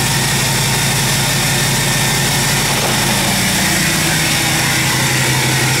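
A 2017 Ford F350 with a 6.7 diesel engine runs steadily at idle, a loud, close, continuous rumble with a constant mechanical drone and no speech.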